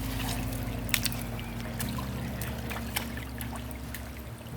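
River water overflowing past stacked rocks, a steady trickling and burbling flow heard close up, with occasional brighter splashes and a low constant hum underneath.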